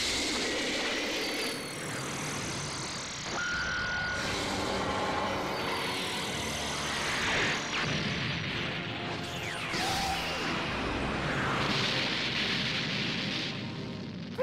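Special beam cannon attack in the Dragon Ball Xenoverse 2 fighting game: a dense, loud roar of crackling energy and crashing blasts that runs steadily for about fourteen seconds with no pause.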